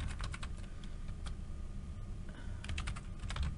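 Typing on a computer keyboard, a close, steady run of rapid key clicks in bursts with a brief pause midway, over a low background hum and without any talk.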